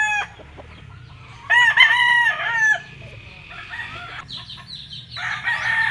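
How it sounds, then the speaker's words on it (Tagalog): A Kelso-cross gamecock crows loudly nearby in a long drawn-out call, followed by clucking and more crowing from other chickens in the background of a backyard breeding farm in Lipa, Philippines. "So morong Kelso cross yung mga manok dito ni Boss Willie."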